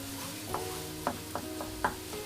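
Onions cooking in a pan for a Moroccan pastilla filling give off a soft, steady sizzle, broken by a few stirring scrapes and knocks heard up close, with no voices.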